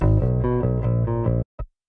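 Bass guitar through an amp-matched patch, playing a short run of gritty, clanky repeated notes that stop abruptly, followed by one brief pluck.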